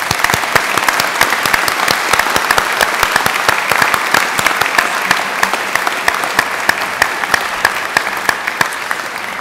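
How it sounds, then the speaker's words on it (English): A large graduation ceremony audience applauds the new graduates in sustained, loud, even clapping from many hands, filling the hall steadily throughout without talk. "Please join me in giving them a round of applause."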